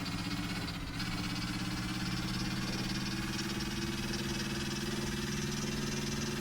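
An 18-cylinder radial piston engine runs steadily close by, a dense, throbbing low drone with a constant rumbling beat, loud and continuous with no talking.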